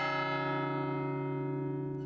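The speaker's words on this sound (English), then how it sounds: "my favorite tradition, ringing the Shandon bells" A single sustained bell tone from the Shandon bells at St. Anne's church in Cork, rich with overtones and ringing alone as it slowly decays.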